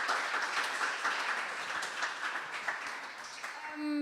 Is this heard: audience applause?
yes